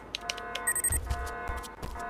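An alarm ringing in the game IGI, a repeating electronic bell or beeping tone in short bursts, loud and close, with thumps and other game sounds mixed in.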